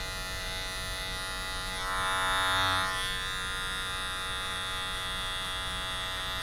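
Electric hair clipper buzzes steadily and close while cutting a mid fade, a constant bright electric hum that grows slightly fuller for a moment as it moves across the hair.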